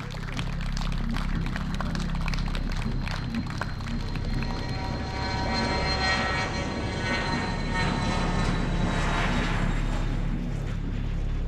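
A fixed-wing airplane's engines roar steadily and loudly throughout as it takes off, a dense continuous drone with no pause.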